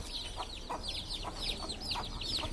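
A Bihari breed hen clucks softly and repeatedly amid a string of high, thin peeps, set against a steady outdoor hum at moderate distance with no talking.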